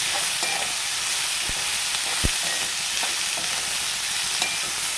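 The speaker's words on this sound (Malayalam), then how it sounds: "രണ്ട് സവാള അരിഞ്ഞത് ഇട്ടിട്ടു അതൊന്നും വാടി വരട്ടെ" Two sliced onions sautéing in a hot pan for an egg roast curry, a constant close sizzle with a few sharp clicks of stirring.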